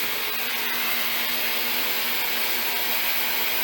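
Pro-Ject VC-E vacuum record cleaning machine running, a steady loud whooshing suction drone held evenly without pause, alone with no talk.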